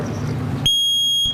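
An electronic time-limit buzzer at a Margate, New Jersey public work meeting sounds as a loud steady tone of about half a second, cutting abruptly over the low room noise.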